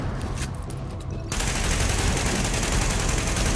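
Loud, continuous roaring blast of a flamethrower in The Division, a dense rushing burst that starts abruptly partway through and holds steady to the end.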